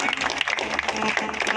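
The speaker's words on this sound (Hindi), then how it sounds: "तालियों की गड़गड़ाहट।" Applause from a village crowd at a political rally in Kurukshetra, a brief burst of scattered clapping running under an announcer's voice.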